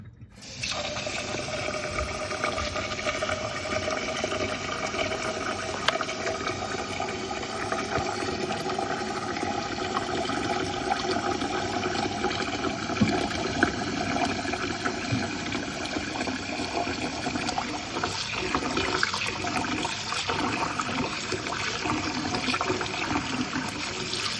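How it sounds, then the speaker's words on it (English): Water runs steadily into a pot of rice as it is washed on a stovetop, a continuous close splashing and trickling with swirling grains, no voices, lasting throughout. "so now we're gonna wash the rice"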